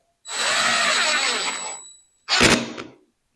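A power drill drives screws into a green wood bowl blank, giving one long whirring run followed by a shorter, sharper burst as the screw seats, loud and close with no talk.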